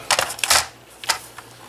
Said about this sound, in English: I'm going to trim off a little bit of the top.